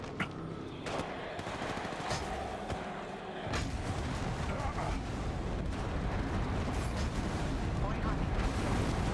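Airstrike explosions and gunfire rumble in a match of the video game Apex Legends Mobile, a dense, loud, sustained barrage of blasts and booms, with voices heard under it.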